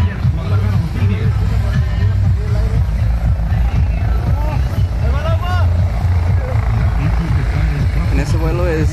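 Helicopter carrying aerobatic performers flying over the Flyers Guadalajara 2010 air show, a steady low rotor drone and rumble under a continuous crowd hubbub and a commentator's voice.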